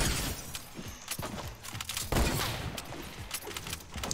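Rapid gunshots crack in a Fortnite match, a dense run of sharp reports with a few heavier booms, close and continuous throughout.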